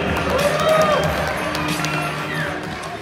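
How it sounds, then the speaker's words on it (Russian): A crowd at a martial arts festival weigh-in applauds and cheers in a dense, steady wash of claps and voices that stays loud throughout, with some speech mixed in. "Ваши аплодисменты!"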